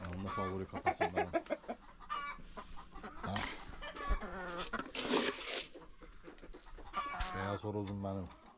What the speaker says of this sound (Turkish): Beyaz horozum benim. Aslanım.